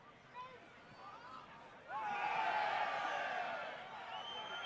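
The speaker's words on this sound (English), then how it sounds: "Crowd wanting a high boot there." A football crowd at a Heidelberg United v Auckland FC Australia Cup semi-final rises into a swelling roar of protest, calling for a high boot foul, as a commentator talks over the noise.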